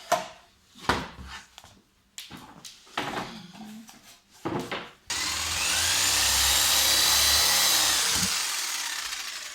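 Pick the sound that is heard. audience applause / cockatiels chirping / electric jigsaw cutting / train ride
electric jigsaw cutting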